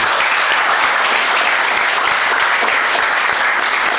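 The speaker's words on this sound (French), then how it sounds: "sous vos applaudissements" Audience applause in a school quiz competition studio as rival high school teams are introduced, dense steady clapping filling the whole stretch at close range with no voices over it.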